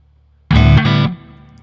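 Electric guitar through a Logic amp simulator with the gain raised and a little reverb: one loud distorted chord that rings for about half a second, then drops sharply to a quieter sustain.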